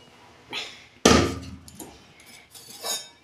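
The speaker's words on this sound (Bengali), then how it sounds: "দেখুন বন্ধুরা, ঢাকনা খুলছি।" Sharp metallic clank as the lid of a pressure cooker used to boil potatoes is opened, followed by a few softer metal knocks and rattles, close and fairly loud.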